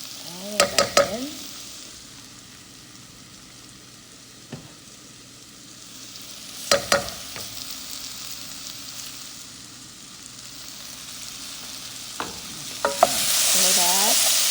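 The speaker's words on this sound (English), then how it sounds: "now we're going to add in our garlic and saute that as well, and our ginger" Onions, garlic and ginger sizzle and fry in a pan for zucchini curry, a steady low hiss punctuated by a few sharp clanks of a utensil stirring against the pan, growing louder toward the end.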